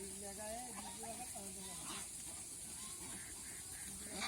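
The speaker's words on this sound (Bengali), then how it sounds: "এই যে দেখেন দানাদার খাদ্য কীভাবে খাইতেছে এবং সম পরিমাণে খাইতেছে সব হাঁসগুলি" A flock of ducks feeding on pellet feed makes faint, busy dabbling and hissing noises mixed with soft nasal quacks, heard at a distance.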